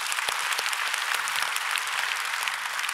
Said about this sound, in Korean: 박수 좀 한번 쳐주고 싶어요.